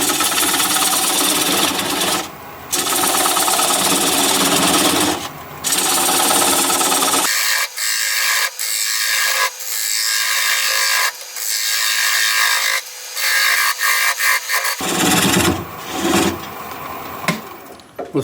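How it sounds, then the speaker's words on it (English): A wood lathe spinning an oval bowl as a 3/8 inch bowl gouge cuts away the tenon, giving a loud rhythmic chattering whir with repeated brief pauses and restarts as the cut catches and releases. "I'm going to take a 3/8 inch bowl gouge to commence to removing that tenon."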